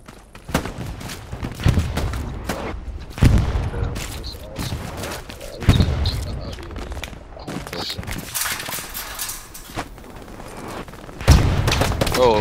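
Gunfire in Hell Let Loose: repeated shots and bursts, some sharp and near, others more distant, go on for about twelve seconds over a noisy battlefield background.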